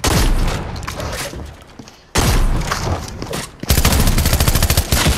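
Video game shotgun fire sounds in dense, loud bursts of booming blasts with brief gaps between volleys, close and heavy.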